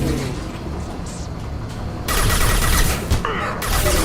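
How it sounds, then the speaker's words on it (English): Heavy gunfire in the Mass Effect video game: a dense, continuous roar of shots and impacts that swells sharply louder halfway through and stays close and intense to the end, with no talking. "Taking heavy fire."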